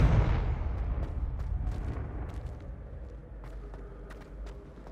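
A loud explosive spell blast from Bombarda and Confringo in Hogwarts Legacy booms at the start, then a long rumbling decay follows with scattered clicks and light footsteps.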